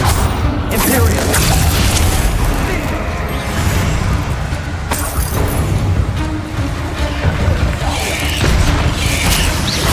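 Spell explosion from Confringo in the game Hogwarts Legacy: heavy booming blasts and crashing impacts over a dense, continuous din of combat, loud and sustained throughout, with voices mixed in.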